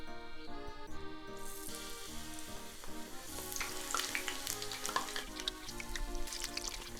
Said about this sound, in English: I'm gonna fry the shiitake mushrooms.